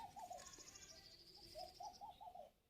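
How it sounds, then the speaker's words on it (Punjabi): A dove coos repeatedly from a perch overhead, its soft rolling calls coming in short phrases over a quiet indoor setting while old clay pots are being painted. "ਆਪਣੇ ਉੱਪਰ ਬੈਠੀ ਘੁੱਗੀ ਬੋਲੀ ਜਾਂਦੀ ਹੈ"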